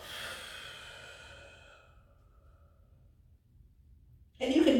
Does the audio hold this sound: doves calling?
no